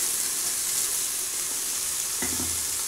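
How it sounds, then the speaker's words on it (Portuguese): Chopped onion frying in a pan as the base for pressure-cooker rice, a steady soft hiss of sizzling oil, with a brief clink of a utensil near the end. "Vou deixar a cebola murchar um pouquinho e volto."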